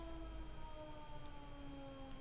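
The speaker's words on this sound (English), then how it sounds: "Sirens and dogs here." A faint, steady wailing siren drones in the distance, a long sustained tone over low background rumble.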